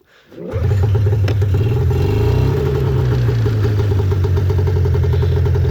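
A 1996 Arctic Cat Cougar 550 snowmobile engine fires up and settles into a loud, steady, close idle with a rough buzzy two-stroke burble, running a little low and holding level throughout.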